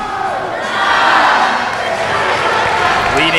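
Fans in a college volleyball gym join a cheer led by a dad, a loud, sustained roar of crowd voices that swells and then holds steady.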